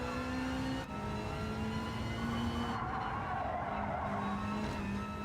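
Race cars in Gran Turismo 7 drone with steady engine tones and a long, continuous tire skid, the pitch shifting as the cars slide through a corner, loud and without speech.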